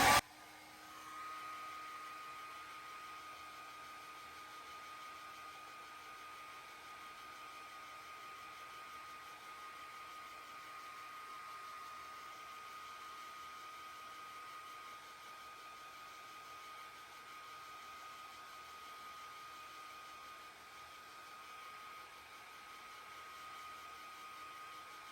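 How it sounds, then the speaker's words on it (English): A hair dryer blows steadily on a wet paint layer of a ghost and Christmas tree painting, a constant close whir with a faint hum that runs unbroken throughout, with no talking. "we're gonna go ahead and blow dry this and add another layer"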